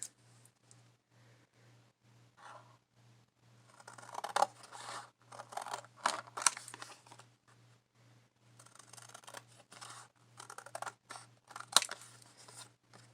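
Scissors snip through stencil cards cut from a stencil masterboard, giving irregular bursts of close crisp cuts and paper rustling with short pauses, over a low steady hum and with no voices.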